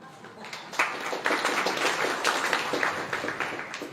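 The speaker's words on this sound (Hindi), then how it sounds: "आप लोगों ने ताली बजा दी" Clapping from an audience at a spiritual discourse in a large hall, a broad wash of many hands that swells after half a second and holds steady at moderate loudness, with faint voices underneath.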